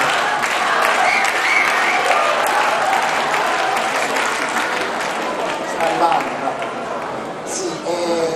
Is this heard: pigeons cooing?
no